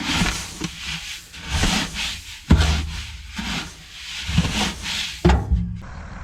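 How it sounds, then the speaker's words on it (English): Hand mixing alfalfa and orchard grass hay in a bucket produces dry, rustling scrapes that rise and fall in repeated strokes, with a few sharper knocks against the bucket, close by and with no voices. "I do have to hand mix the alfalfa and orchard grass together. And to do that, I'm just simply using the bucket."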